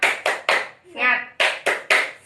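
A primary school class claps out a rhythmic spirit cheer in unison, with sharp, evenly spaced group claps in two sets of three separated by a brief shouted chant from the children.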